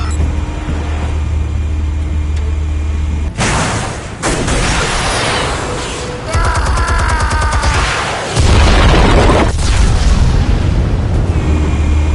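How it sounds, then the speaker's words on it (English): Explosives detonate in a Batman video game with heavy, sustained rumbling booms and crackling debris, loud and continuous, swelling again toward the end. "Explosives armed. Fire when ready."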